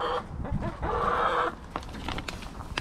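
Backyard hens cluck and murmur close by in a steady, busy run, with one louder sustained call in the middle and a few sharper clucks and rustles after it.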